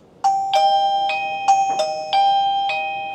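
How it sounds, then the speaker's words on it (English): An XTU J10 doorbell camera's chime rings loudly and close, a series of bright ding-dong tones repeating about every half second with ringing tails, with no one talking. "we're gonna hear the chime as well"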